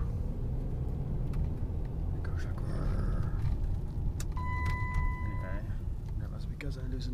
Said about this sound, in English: don't you just love that sound of that car?